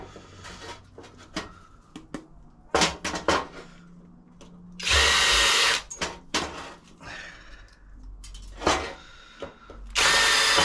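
Rivets are drilled out of the bump stops on a Yamaha XT600 sump guard. Short, loud bursts of a power drill alternate with clanks and knocks of metal parts being handled nearby.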